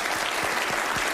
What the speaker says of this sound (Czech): máme veľký potlesk